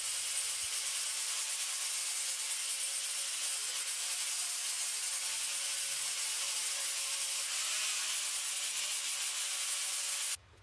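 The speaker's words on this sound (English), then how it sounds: "Finally, I'll use a sanding pad to finish off the sanding." Hand sanding of wood with a steady, continuous abrasive rubbing hiss, close and even throughout, stopping abruptly at the end.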